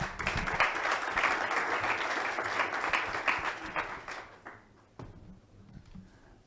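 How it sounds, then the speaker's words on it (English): An audience applauds warmly, the clapping strong at first and then thinning out and fading, with a few last scattered claps. "Please give a warm applause to Mr. Edzard Siemens."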